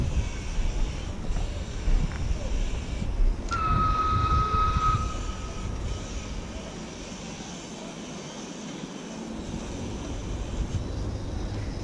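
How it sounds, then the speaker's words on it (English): A freight train rumbles past in Tbilisi, a broad steady roar with a brief high squeal midway that fades into a quieter dip before the rumble returns. "another freight train"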